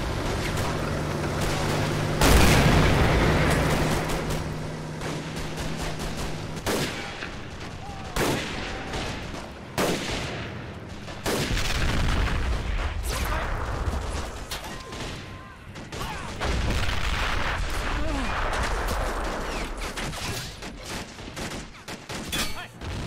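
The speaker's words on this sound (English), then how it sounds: "And then the mortar way in the back." Heavy explosive thumps and booms from video game mortar fire punctuate a chaotic battlefield soundscape, repeated loud blasts spread irregularly over some twenty seconds with crackling gunfire and occasional talk in between.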